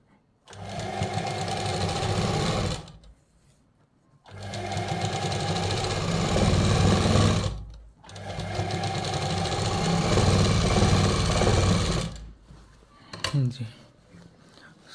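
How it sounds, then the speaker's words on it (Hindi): Three long bursts of a sewing machine stitching a kurta, each a fast steady whirring rattle lasting a few seconds, separated by brief pauses, with a short clatter of handling at the end. "उसके बाद ये पूरा सिलाई लगा लेना है इस तरीके से"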